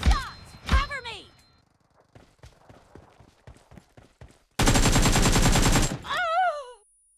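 Gunfire in the mobile game BGMI, with sharp shots early, a scattered run of rapid pops, then a loud dense burst of automatic fire, while a voice calls out over the action.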